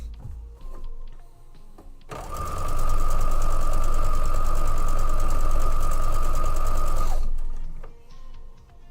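A sewing machine stitches fabric in a single loud, steady burst of about five seconds with a high whirring hum, starting and stopping abruptly amid quieter room sounds.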